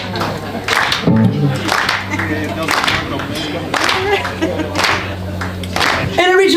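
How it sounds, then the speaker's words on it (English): An audience at a blues band challenge claps hands along in a regular rhythm while people talk and sing over it, the claps bright and fairly close. "We want you to clap your hands."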